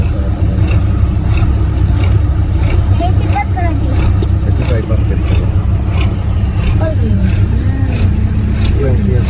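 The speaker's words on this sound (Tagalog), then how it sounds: "Tapos ayan po yung panahon dito. Sobrang hangin." Strong wind buffets the microphone in a constant low roar, with a few voices faintly heard beneath it.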